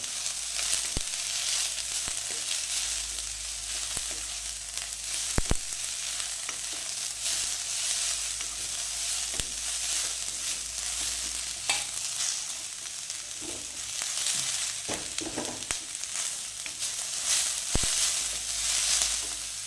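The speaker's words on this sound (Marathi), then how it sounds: "ते थोडंसं परतून घेऊया" Bell peppers are sautéing in a pan for spicy homemade Schezwan noodles. A steady, loud sizzle runs throughout, broken by occasional sharp clicks of a spatula being stirred against the pan. No one speaks.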